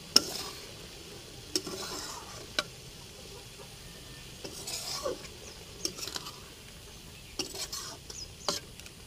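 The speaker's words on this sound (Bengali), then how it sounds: "দিয়ে নাড়াচাড়া করে নামিয়ে নেব।" Bottle gourd curry with ghee and ground garam masala being stirred in a pan, with soft scraping strokes and occasional spoon clinks over a faint, steady sizzle, no talking.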